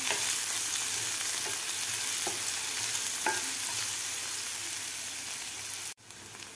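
Chopped onion frying in a pan, turning golden: a dense, continuous close sizzle with a few soft stirring scrapes, then a brief sharp cut before the sizzle resumes.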